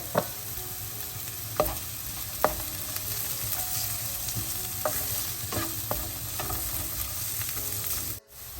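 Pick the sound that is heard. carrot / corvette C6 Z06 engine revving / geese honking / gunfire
carrot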